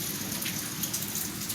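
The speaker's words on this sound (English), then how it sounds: "It is still raining" Steady rain at sunset patters and hisses continuously, with scattered drops striking a surface nearby at moderate loudness.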